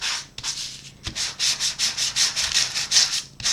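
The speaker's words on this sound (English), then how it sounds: "So when you do the raised up side and use your sander" A sander rubs back and forth across the raised side of embossed cardstock in quick, even strokes. The scratchy, rhythmic rasping is close and alone, with a brief pause near the start.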